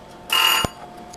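A single short electronic beep from an RV appliance timer, faint and brief, followed by quiet.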